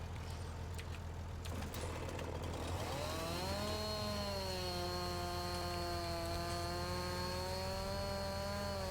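A small, underpowered chainsaw cuts wood in the farming video game My Little Farm, its steady buzz rising to a loud, sustained whine that runs on without a break, with no talking.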